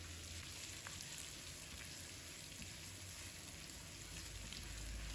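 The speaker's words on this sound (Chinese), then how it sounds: "再把我们煎好的土豆片、洋葱放入锅中，继续翻炒均匀" Quiet, steady sizzling of potato slices, onion and green and red peppers being stir-fried in a wok, a constant low frying hiss with faint scraping and no talk.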